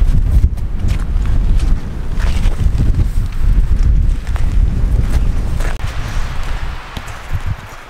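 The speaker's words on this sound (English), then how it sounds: "It's pretty windy" Strong wind buffets the microphone outdoors in cold, snowy weather, continuous heavy gusts, a loud low roar with no clear speech.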